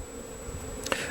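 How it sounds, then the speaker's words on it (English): Honey bees buzz steadily at a hive in a brood-and-a-half setup, a continuous close drone with a brief louder pass near the end and no speech. "So let's take a look at the bees."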